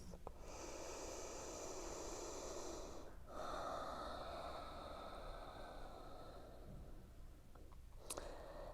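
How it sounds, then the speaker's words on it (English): Ujjayi breathing during a yoga session: a long, steady, hissing throat breath near and close, one extended exhale-like stream with a brief pause, then another soft breath. "using a gentle ujjayi to activate the throat"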